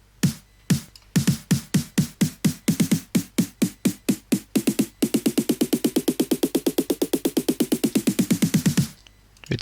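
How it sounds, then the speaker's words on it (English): Snare buildup sample from an FL Studio EDM project: sharp snare hits that start as a steady pulse and speed into a dense, accelerating roll, loud and alone, cutting off abruptly at the end. "Here is a snare buildup."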